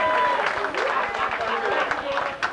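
Concert audience applauding a guest vocalist at a live soul show, a dense wash of clapping and cheering that runs steadily throughout, with voices mixed in.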